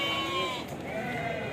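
Sheep bleat at an outdoor sheep and goat livestock market, two close, wavering cries following one another with background murmur and no clear talk.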